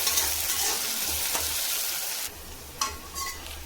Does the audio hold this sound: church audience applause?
no